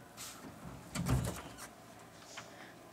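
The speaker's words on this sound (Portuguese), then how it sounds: "Pode deixar que eu abra a porta." A door opens in a Brazilian radio drama scene, a short muffled creak and thud standing out alone against quiet room tone.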